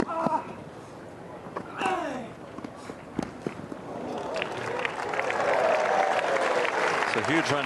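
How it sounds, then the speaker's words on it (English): A Wimbledon tennis crowd's applause builds into a broad, sustained clatter of clapping, with a voice speaking briefly before it swells. "So a huge round of applause for a man catching a tennis ball."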